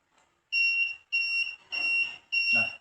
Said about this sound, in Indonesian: buzzer sudah terbukti berbunyi, rangkaian benar